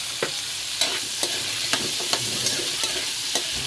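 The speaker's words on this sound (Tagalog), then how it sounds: "Konting gisa lang yan mga kastrong, hindi kailangan sobrang gisa yan." Carrots and potatoes sautéing in a pan, a constant bright sizzle with a regular series of light spatula taps and scrapes, close and with no speech.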